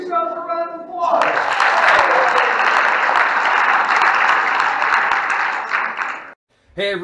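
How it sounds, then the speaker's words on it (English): A brief voice gives way to a full round of crowd applause, loud and dense for several seconds before stopping abruptly, followed by a short burst of other sound. "Give yourself a round of applause."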